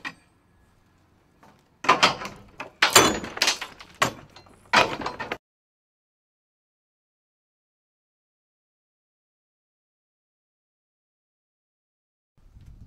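Firefighters force an outward swinging door during forcible entry training, producing a cluster of loud metallic bangs, scrapes and thuds over a few seconds, followed by long silence.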